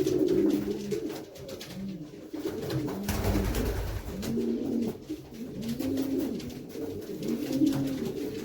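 Pigeons coo repeatedly in a loft or coop in Madrid, Spain, with overlapping low, rolling calls from several birds throughout, fairly close and steady.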